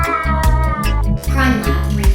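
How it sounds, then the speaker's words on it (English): A cat meows repeatedly in loud, close, drawn-out cries, several in quick succession with short gaps between them. "This one's about my cat."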